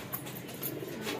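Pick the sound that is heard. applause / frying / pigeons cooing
pigeons cooing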